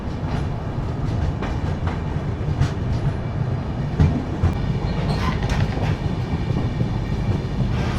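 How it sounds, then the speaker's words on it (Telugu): Train 12791 on the Secunderabad to Danapur run pulls out of Peddapalli Junction, its wheels rumbling and clicking over the rail joints in a steady, loud, continuous roll close by, with no voices. "మన ట్రైన్ పెద్దపల్లి జంక్షన్ నుంచి అయితే బయలుదేరిపోయింది"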